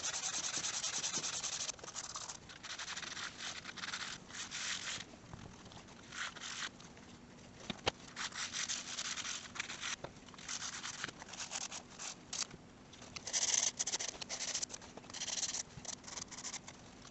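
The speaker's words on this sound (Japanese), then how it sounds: "紙やすりの方が作業しやすいですね。" Sandpaper rubs against the hem of vintage Levi's 66 jeans in repeated scratchy strokes, an uneven rhythm of bursts and short pauses, close up and fairly quiet.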